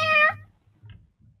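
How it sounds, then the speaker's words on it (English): A house cat sitting on a laptop gives one loud, clear meow at the start, followed by soft thumps and faint rustling as it moves about, with no talk. "let me grab the kitty cat. It's on the laptop."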